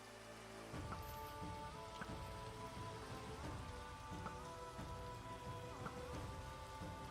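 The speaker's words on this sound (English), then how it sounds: "And the rain finally stops" Rain patters steadily in the video game Minecraft, a constant hiss of drops with faint low rumbles beneath, starting after a brief lead-in and running without any speech.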